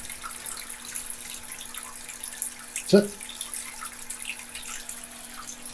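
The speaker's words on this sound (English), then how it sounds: "So the supply, cold water from the house, is going into the coil, but not into the beer." Cold house water runs through a beer wort chiller coil and out a hose into a drain, a faint steady trickle and hiss, with a brief spoken word partway through.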